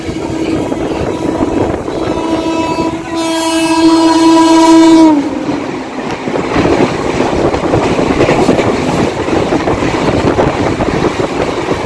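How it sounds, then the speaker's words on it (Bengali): A local train pulls into Mecheda station, rumbling steadily up close, and a loud sustained horn blast sounds midway before the rolling noise carries on. "ট্রেন এখন আমাদের মেচেদা স্টেশনে এসে পৌঁছেছে।"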